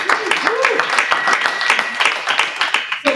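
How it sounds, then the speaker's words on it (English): A round of applause from a business audience at a small-business banking and finance event, dense clapping filling the whole stretch with a voice speaking over it near the start. "That's a strong round of applause."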